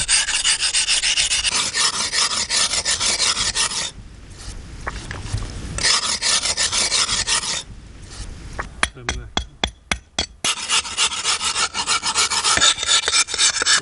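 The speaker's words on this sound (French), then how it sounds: "lime les dents pour les amener au même niveau" Rasping file strokes work the teeth of a foggara comb, a traditional Algerian irrigation water-divider, leveling them evenly; a steady gritty scrape runs close up, pauses briefly twice, then gives way to a few sharp clinks before resuming.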